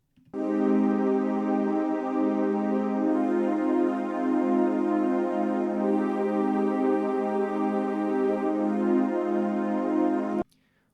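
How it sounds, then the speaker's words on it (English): Korg Wavestation synthesizer on its Whisper Voices preset, a breathy choir-like pad holding a sustained chord with a slight swell partway through, steady and alone before stopping abruptly. "we're set on the Whisper Voices preset,"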